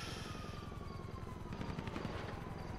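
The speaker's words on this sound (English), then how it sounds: "there's a helicopter again" A helicopter's rhythmic rotor thumping pulses steadily in the distance during an outdoor walk, with a siren-like whine drifting over it, fairly faint.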